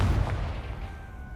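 A Confringo blasting spell exploding in Hogwarts Legacy: a single heavy boom at the start with a deep low thump, then a fading rumbling tail.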